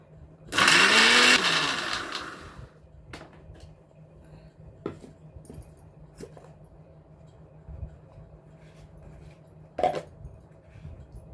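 A mixer grinder whirs loudly for about two seconds, blending ginger with a cup of water, its motor pitch shifting, then stops, leaving quiet clinks and handling sounds.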